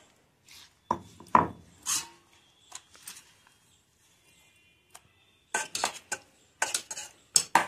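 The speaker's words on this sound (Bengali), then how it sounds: "এরকমের সব ডালটা বেটে নেবা" Lentils and a couple of green chillies ground by hand on a grinding stone, heard as close, irregular bursts of gritty rubbing and scraping separated by quiet gaps.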